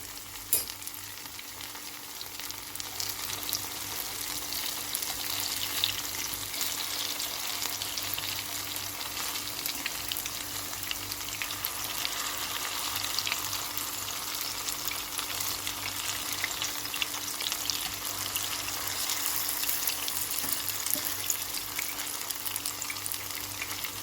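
Continuous, even sizzling of zucchini fritters with garlic frying in a pan, a dense crackling hiss that holds steady with no talking.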